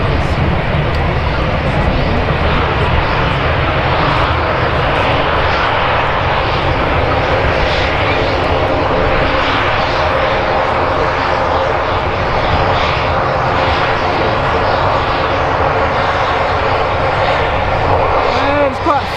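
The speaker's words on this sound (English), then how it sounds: "Turkish Airlines Dreamliner." Turkish Airlines Boeing Dreamliner jet at Manchester Airport, a loud, continuous broadband engine roar heard from a spotting area, with people talking over it throughout.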